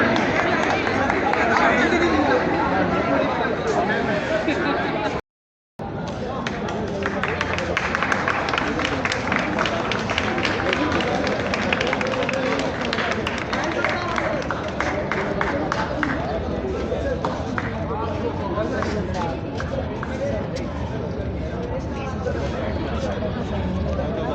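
A crowd at a Jamia Millia Islamia Hindi department event gives the chief guest a long, steady round of applause, dense clapping with chatter and babble throughout, cut by a brief silent gap near the start.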